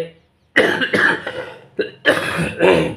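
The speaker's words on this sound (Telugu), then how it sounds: "కొంచెం మధ్యలో దగ్గు వస్తూ ఉంటుంది, ఏమనుకోబాకండి" Several harsh coughs from a person with a winter cold, in quick bursts, loud and close, with a short pause between groups.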